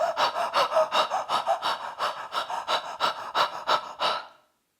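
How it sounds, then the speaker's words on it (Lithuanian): A voice demonstrates hyperactive breathing during labour contractions, with rapid, evenly spaced panting gasps, close and loud, about two per second, ending abruptly in silence. "Tada kitas scenarijus yra hiperaktyvus kvėpavimas, kuomet aš imu elgtis kažkaip taip."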